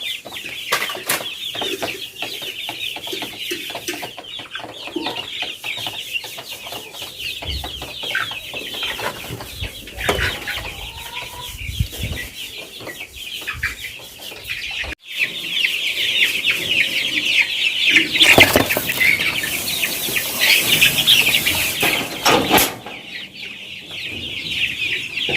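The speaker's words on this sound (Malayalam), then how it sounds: "നല്ല അടിപൊളിയായിട്ട് നമ്മുടെ കോഴികളൊക്കെ ഓടിച്ചാടി നടക്കുന്നു" Chickens on a poultry farm cluck steadily and flap their wings in bursts, a busy close flock sound that swells louder midway and carries on without talk.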